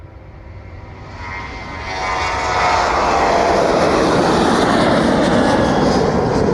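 A jet airliner climbs out from East Midlands Airport at about 2,600 feet per minute, its broad engine roar building steadily over the first seconds and then holding loud and full with no talk.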